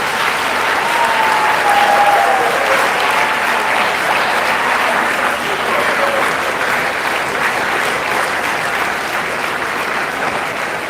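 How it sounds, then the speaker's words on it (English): Sustained audience applause at a university Founders Day ceremony after a speech, loud and steady, filling the whole stretch with dense clapping that barely tapers. "Please do give him another round of applause."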